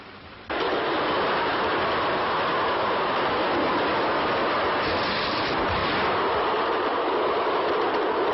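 A steady, loud rumble of a moving passenger train in an old film continues throughout, broad and roaring with no breaks, after a brief quieter moment at the start.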